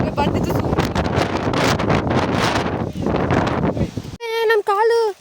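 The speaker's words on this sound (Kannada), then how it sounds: "ಯಾವ ರೇಂಜ್ ಗಾಳಿ ಇದೆ ಅಂತ ಫಾಗ್ ಮುಚ್ಚೋಗಿದ್ಯಾ" Strong gusting wind buffets the microphone on a fog-covered monsoon hilltop at Kodachadri during a trek, a loud continuous roar that drops out near the end as a voice cuts in briefly.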